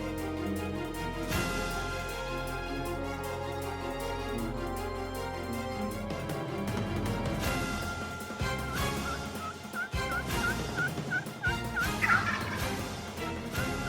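A wild turkey gobbles in bursts outdoors, the loud rattling calls standing out over a steady bed of background music.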